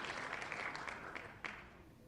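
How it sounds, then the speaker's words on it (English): A faint, canned applause sound effect plays at low volume, a steady wash of clapping with a few sharper claps, briefly swelling near the middle before easing off. "I like the applause."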